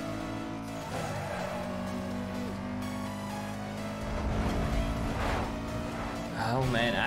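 A Fiat Multipla races in the Need for Speed Most Wanted video game, its engine holding a steady droning hum that swells with revving toward the end, mixed with other game sounds.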